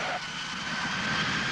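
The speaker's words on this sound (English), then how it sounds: "On touchdown, clouds of smoke shoot from the tires of this jumbo jet." A jumbo jet touches down on a runway, its engines roaring in a loud, steady broadband rush with a thin whine running through, no voices.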